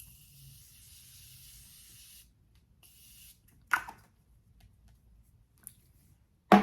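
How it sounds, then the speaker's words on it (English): Two short hissing bursts of Morphe setting spray mist out close to the microphone, the first longer than the second, followed by quiet with a few soft clicks and bumps. "I'm going to set it for like 2 minutes with Morphe's setting spray."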